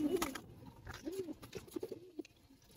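Bangladeshi Giribaz pigeons cooing nearby, several soft throaty coos rising and falling across a few seconds, fairly quiet with faint background noise and no talk.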